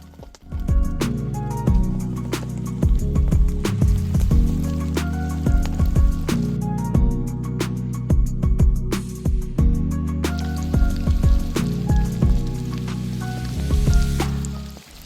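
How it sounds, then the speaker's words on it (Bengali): Battered chicken pakora pieces frying in hot oil, a loud continuous sizzle and crackle with dense popping spatters, heard close and alone. "এরপর তেল গরম হয়ে গেলে তেলের মধ্যে দিয়ে দিতে হবে মাংসগুলো।"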